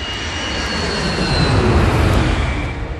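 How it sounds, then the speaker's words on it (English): A Boeing 757 jet airliner cruises at altitude, its engines giving a loud, steady, broadband roar with a faint whine on top and a slight swell midway, with no voices. "They're flying a Boeing 757, a state-of-the-art airplane equipped with highly sophisticated computer systems."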